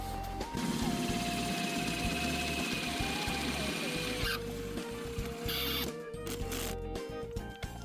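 A VW bonnet strut hole being drilled, with a steady high whine that shifts pitch as the bit bites into metal, followed by clicks and handling noises, under quiet talk.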